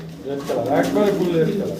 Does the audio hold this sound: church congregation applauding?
no